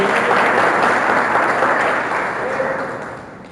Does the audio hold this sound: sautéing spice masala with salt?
no